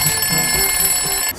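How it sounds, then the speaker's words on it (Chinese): A bedside alarm clock rings with a loud, steady electronic tone that fills the room from close by, continuous and alone until it cuts off near the end. "我叫他都调一个闹钟"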